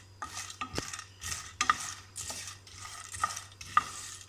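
Whole cardamom pods roasting in a pan, heard as a series of light rattling, scraping stirs and soft crackles in short bursts at close range, with quiet gaps between strokes.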